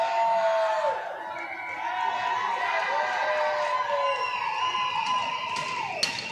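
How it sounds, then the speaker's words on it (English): Crowd cheering at a college ice hockey game, a steady, fairly loud wash of voices and whoops filling the arena throughout, with rising shouts and a brief sharp knock near the end. "Crowd cheering on Jessica Tay there in the box"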